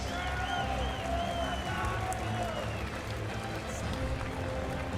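Steady applause and crowd noise fill an indoor pool venue after the women's 50 backstroke final at the Speedo Junior Nationals, a dense continuous wash of clapping with cheering and an announcer's voice over it.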